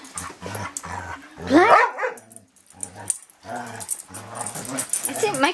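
A dog barks and yips in short bursts close by, mixed in with people talking over and between the barks.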